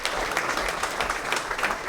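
An outdoor audience claps steadily at a statue unveiling, a dense even patter of many hands from start to finish with no voices on top.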